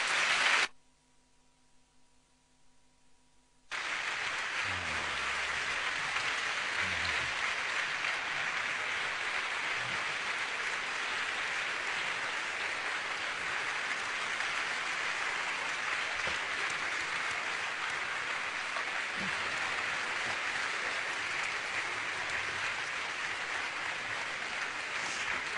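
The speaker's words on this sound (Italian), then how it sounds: "io vi chiedo di fare un grande applauso stasera per Arunda Tiroi, John Berger, Marino Siniba" After a brief quiet moment, a large festival evening audience breaks into sustained applause, a broad, steady wash of clapping that fills the hall for over twenty seconds.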